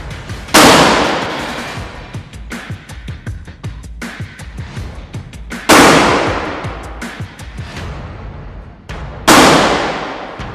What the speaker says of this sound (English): We fire 3 shots consecutively.